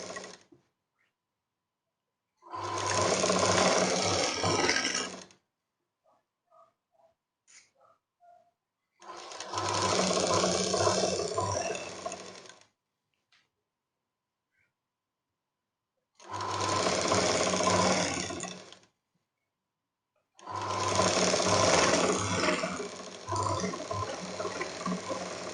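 A sewing machine stitches a second line over a blouse seam in four steady bursts of rapid whirring, each lasting a few seconds, separated by short quiet pauses, close and loud, with no talking.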